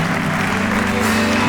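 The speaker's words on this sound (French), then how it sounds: "Je répète encore, tu as raison d'acclamer." A church congregation claps and cheers during a night prayer service, a dense, loud and continuous wave of applause with voices mixed in.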